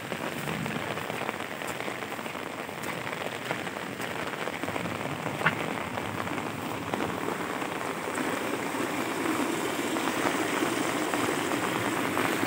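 Heavy rain pours down in a steady, dense hiss across a wet outdoor wetland fishing area, loud and continuous throughout with no talking.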